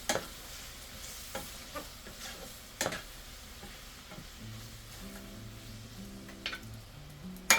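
Tomatoes sizzle and fry in a pan while a spoon scrapes and stirs in intermittent clacks, with a low tonal hum joining partway through.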